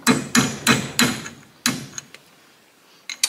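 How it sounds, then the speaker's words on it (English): Hammer blows on a center punch driving out a broken bolt, five sharp metallic strikes in a fairly quick rhythm, then a pause and a few lighter taps, close and loud with no talk. "Got my center punch back out, my oversized hammer. Let's see if we can knock the bolt out."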